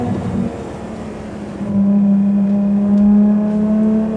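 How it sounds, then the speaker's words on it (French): Ferrari Monza V12 engine rated at 810 hp, holding a loud, steady droning tone that rises slightly and sustains, heard close and alone without talk. "Mais n'importe quel régime, par contre, le moteur a une sonorité, mais juste incroyable."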